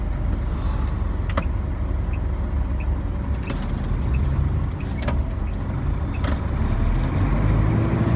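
Sinotruk truck engine heard from the cab, a loud continuous rumble with intermittent clicks and knocks from clutch and gear lever movements, rising slightly in revs near the end.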